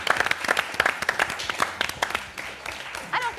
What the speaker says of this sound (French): on applaudit Kamel